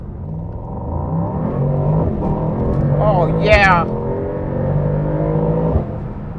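A 2024 Mercedes AMG GT 63 Coupe accelerating, its engine note rising in pitch under a brief spoken exclamation, heard from inside the car with a steady rumble.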